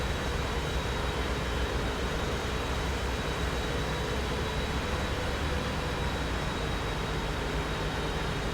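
Steady, loud broadband roar of an airliner's jet engines inside the cabin during the landing approach on a Nassau to Bogota flight, unbroken and even throughout with no voices.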